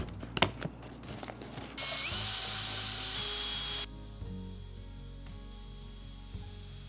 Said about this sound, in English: So gonna use the diamond drill bit.